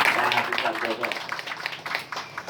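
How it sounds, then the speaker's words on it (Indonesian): Scattered audience clapping at a formal speech event by a retired army general, with brief irregular bursts of claps mixed with some voices in a hall. "Tepuk tangan sekali lagi."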